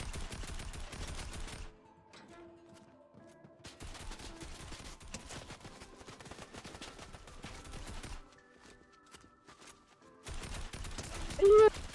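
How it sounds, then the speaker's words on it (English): Gunfire from the Fortnite Prison Escape Room 2 map, heard as dense bursts of shots with quieter gaps, mixed with game sounds and some talk. "now they're shooting me"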